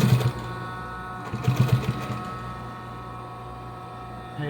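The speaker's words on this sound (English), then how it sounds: "So I'm going to backstitch, and I'm going to make sure that I sew just to the left hand side of this" A sewing machine runs steadily while backstitching a seam in automotive upholstery for a 2005 Silverado rear seat, with a continuous close whirring hum and brief louder bursts as the stitching speed changes.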